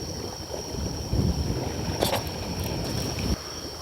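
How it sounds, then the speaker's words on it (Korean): Strong wind gusts across the microphone during hairtail lure fishing, making a loud, continuous low rumble with swelling gusts and a few brief knocks. "생각보다 바람이 너무 세지네"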